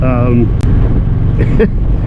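Deep, steady motorcycle engine and exhaust rumble close by, with a bass note, a brief voice near the start and wind buffeting over it.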